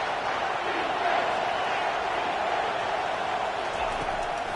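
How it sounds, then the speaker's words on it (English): A stadium crowd in the NCAA 25 college football video game cheers as a steady, continuous roar that fills the whole moment without easing. "This crowd knows when to bring it."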